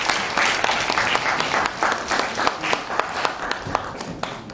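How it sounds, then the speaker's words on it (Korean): At a literary concert, the audience gives sustained applause as high school students leave the stage, a close, fairly loud run of clapping with a few sharper individual claps standing out. "박수 부탁드립니다."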